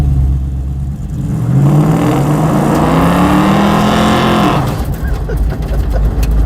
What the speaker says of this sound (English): now we have to drive the world's roughest road that shakes the whole car apart